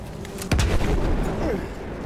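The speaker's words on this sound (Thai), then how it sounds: "ระเบิดตุ้ม" A single loud, close explosion in the World War I shooter Battlefield 1 bursts out, then leaves a low rumbling tail that hangs under continued game noise.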